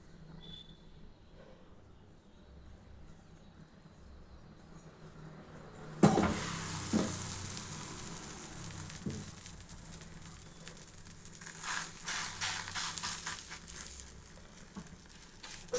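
Drumstick leaf stem batter spread onto a hot dosa pan sets off a sudden broad hiss at about six seconds, settling into a steady crackling sizzle with small pats and clinks, after a quiet stretch.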